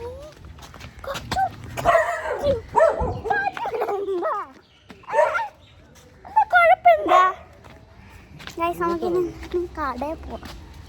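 A dog barks and yips repeatedly in short bursts, close by, mixed with people talking.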